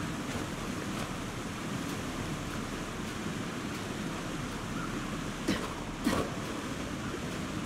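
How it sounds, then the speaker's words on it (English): A waterfall in the snowy survival game The Long Dark gives a constant, low rushing roar, steady and moderately distant, with a couple of brief louder knocks near the end. "It is a waterfall."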